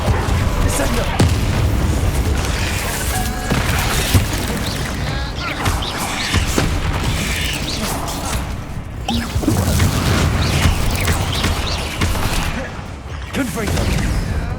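Explosive Confringo and Bombarda spells cast in the video game Hogwarts Legacy: repeated booms and crashing blasts in a dense, loud battle mix that runs throughout, with a voice heard in places.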